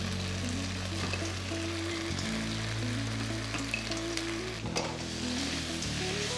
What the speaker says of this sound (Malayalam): ഫ്രൈ ചെയ്ത് വെച്ചേക്കുന്ന കോളിഫ്ലവർ ഇതിനകത്തേക്ക് ആഡ് ചെയ്യാം